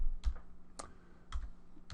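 A few separate, faint key taps on a computer keyboard as code is typed, spaced well apart over a low background hum.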